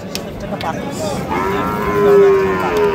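A cow moos with a long, drawn-out low call that swells midway and trails off, close by, over faint background noise.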